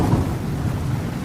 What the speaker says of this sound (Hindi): बाहर जोर से बारिश और तूफान आने लगता है